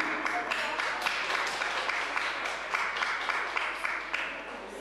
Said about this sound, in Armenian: Եկեք հարմար առիթ է եւս մեկ անգամ շնորհակալություն հայտնենք եւ ծափահարենք Անկային։